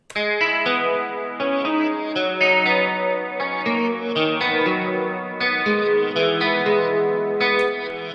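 A looping guitar phrase thickened by chorus and distortion, steady and moderately loud, with a shimmering, wobbling tone throughout.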